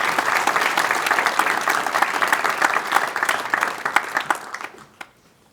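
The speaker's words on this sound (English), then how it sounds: "Please join me in giving our judges a round of applause" Round of applause for the judges at a youth awards celebration hall, steady dense clapping from a sizable audience that tapers off and fades out near the end.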